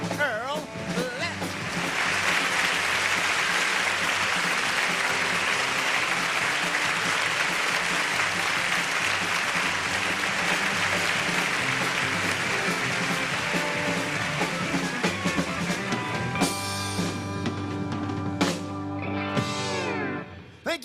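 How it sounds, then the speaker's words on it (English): Television studio audience applauding to welcome the host of a TV show, a dense, loud burst of clapping that builds quickly and holds steady before tapering off as a voice begins talking near the end. "We appreciate the applause."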